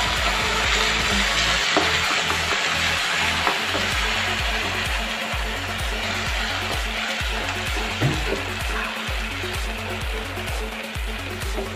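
Fish fries in oil in a covered pan for an Assamese meal, a loud, steady sizzle close up that runs without a break, with faint stirring or shifting knocks underneath.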